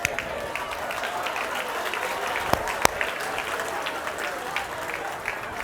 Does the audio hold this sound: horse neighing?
no